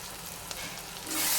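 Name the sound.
tomato sautéing in oil for garlic kuzhambu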